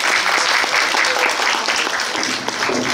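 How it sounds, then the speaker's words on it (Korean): A cinema audience at a film talk event claps in a dense, sustained burst of applause, loud and continuous throughout, with no clear speech over it. "박수"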